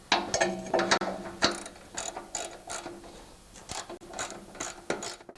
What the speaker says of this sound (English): on the bottom nuts, you can go with your ratchet and 9/16 socket